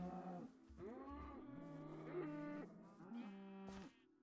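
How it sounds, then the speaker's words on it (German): Cows mooing in the Minecraft video game, several drawn-out, wavering bovine calls overlapping one another in steady succession, fairly close and clear without talk. "So, wollen wir mal gucken, wie die Kühe so drauf sind."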